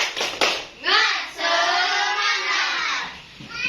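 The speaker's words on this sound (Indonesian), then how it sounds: "ini tepuk semangat terlebih dahulu." Schoolchildren in a classroom performing a rhythmic clap chant: a few sharp claps at the start, then voices chanting together, with a closing clap near the end.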